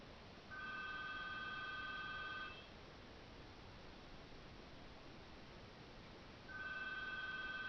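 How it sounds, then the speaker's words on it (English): Telephone ring tone sounds in two long electronic trills separated by a pause, over steady hissing line noise on a recording. "My phone's ringing."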